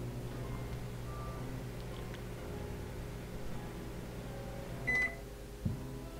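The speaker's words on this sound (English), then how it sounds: "ketchup in the microwave" A microwave oven hums steadily in a puzzle video game, a low droning whir with faint tonal beeps, ending with a brief louder blip near the close.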